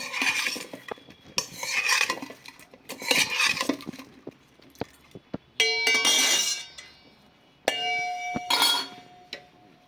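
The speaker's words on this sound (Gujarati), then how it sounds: "મિક્સ કરી દઈશું" Tempered muthiya tossed and stirred in a metal pan with cumin, oil, coriander and curry leaves, giving a run of scraping strokes and bright clinks of a spoon against the pan, close and loud, alone.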